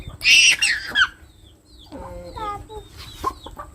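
Chickens cluck and squawk nearby in short bursts, with a louder flurry at the start and softer, scattered calls after a brief lull.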